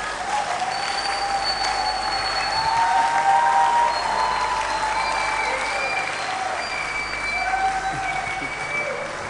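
Applause at a church miracle convention, a sustained wash of crowd clapping with tonal whistles or sustained notes gliding over it, steady and loud throughout.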